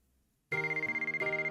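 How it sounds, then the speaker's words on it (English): A cell phone in the visual novel White Album 2 starts ringing abruptly after brief quiet, a loud, close electronic ringtone with a rapid warbling pulse. "Oh, phone call?"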